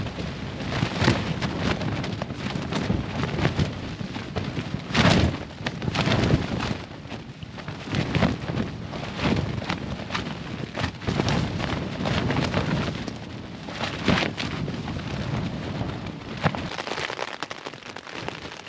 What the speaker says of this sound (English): Just had some insane thunder out there.